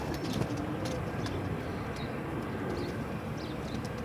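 Pigeons at an outdoor pigeon market in Multan give soft coos and a few high chirps over a dense, steady wash of crowd and market noise.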